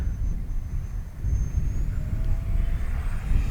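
Freewing L-15 RC model jet flying at full speed outdoors, a thin steady whine drifting in pitch above heavy low wind rumble, continuous and moderately distant.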